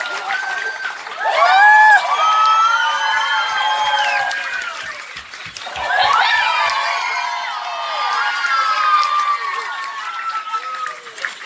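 A crowd at a resort family contest claps, cheers and whoops loudly for a winner, with children shouting; two big swells of noise with a brief dip between them.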